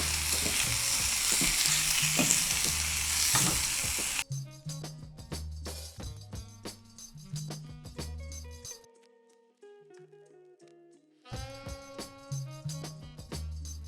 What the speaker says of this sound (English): So I am going to just throw in some thyme, dry thyme. Give it one last stir.